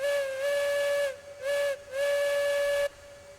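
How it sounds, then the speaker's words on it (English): A steam locomotive whistle in RAILROADS Online sounds in three sustained blasts, a long one, a short one, then another long one, loud and clear with a faint hiss beneath. "Hold the whistle for some good luck."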